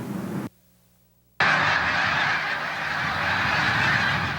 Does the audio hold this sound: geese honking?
yes